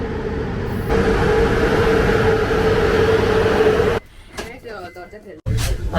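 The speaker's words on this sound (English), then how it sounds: "Our train has arrived." A train pulls into a small railway station in Romania, a loud sustained rumble and drone that cuts off abruptly, followed by quieter station sounds, with a voice speaking nearby.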